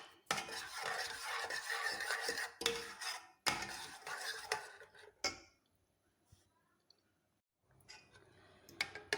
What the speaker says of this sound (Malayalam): ബട്ടർ ഇതോടെ അങ്ങ് ചേർക്കാം. ചേർത്ത് ഒന്ന് ഇളക്കിയെടുക്കാം.